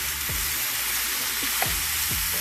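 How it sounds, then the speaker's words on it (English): Ground beef browns in a skillet for a beef chili, giving a steady, close sizzle with a few scraping stirs of a utensil and no talking. "Okay, I'm going to let this brown"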